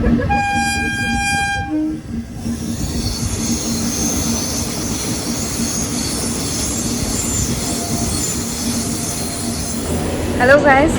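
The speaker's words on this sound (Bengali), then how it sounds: "এখানে আমাদের ট্রেন আসবে পদাতিকে উঠে আমরা যাব" A train arriving at Sealdah station, opening with a loud blast of its horn, then a steady rumble of wheels and carriages rolling in with faint squeals, under station bustle and voices.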